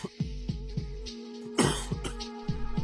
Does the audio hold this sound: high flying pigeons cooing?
no